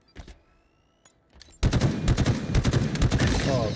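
Loud, dense automatic gunfire in a Halo Infinite Tactical Slayer match bursts in after a quiet moment with a few isolated thuds, then rattles on steadily at close range until the end.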